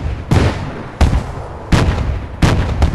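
Four heavy blasts in Battlefield: Bad Company 2 land about once every three-quarters of a second, each a sharp loud crack with a booming tail, close and with no talk.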